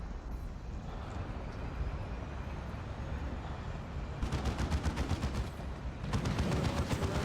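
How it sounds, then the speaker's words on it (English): Bursts of rapid gunfire rattle in a Dawn of War strategy game as a tarantula sentry gun comes under attack, two clusters of quick shots standing out over a busy, fairly quiet battle din. "One of our tarantula sentry guns is under enemy attack"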